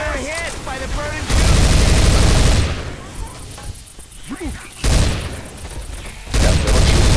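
Gunfire rattles in Left 4 Dead 2 on the Dark Carnival level, loud rapid automatic bursts coming in long, dense stretches with brief gaps, while players talk over the shooting.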